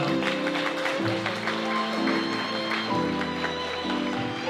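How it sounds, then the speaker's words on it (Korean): Wedding guests applaud during the ceremony as the couple's parents come forward for hugs, a dense continuous patter of clapping over soft background music that holds at an even level throughout. "여러분 박수 부탁드리겠습니다"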